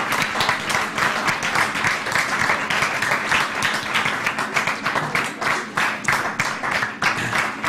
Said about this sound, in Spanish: gracias por ese aplauso espontáneo y atronador que estáis a punto de darme